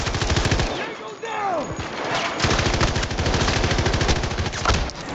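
Light machine gun fire in Battlefield 2042, loud sustained automatic bursts with rapid rhythmic reports nearly throughout, a brief lull in the middle, alongside other battle sounds and a faint voice.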